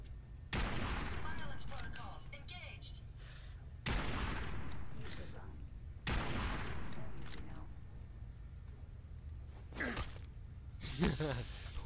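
Gunfire in the Fallout 4 video game, with several loud bursts of shots separated by short pauses and a metallic robotic whine near the end, all close and harsh.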